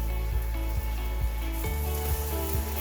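Banana slices fry in a pan of oil, giving a steady, close sizzle with faint stirring scrapes and clicks throughout.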